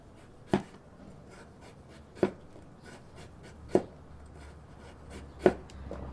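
A knife on a cutting board slices a carrot into thin julienne strips, giving four sharp, evenly spaced chops about every second and a half, close and distinct over quiet room tone.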